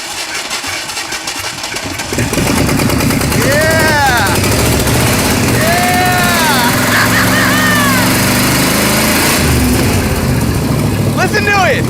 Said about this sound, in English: Listen to it! It's idling! That's a lot of blow by!